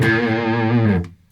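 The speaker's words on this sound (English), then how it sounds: "This is just the AC booster through a clean" An electric guitar played through an AC Booster pedal into a clean Fender amp sustains a single bright, slightly driven note that rings loudly for about a second, then cuts off abruptly.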